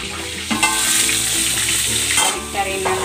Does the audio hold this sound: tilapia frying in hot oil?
yes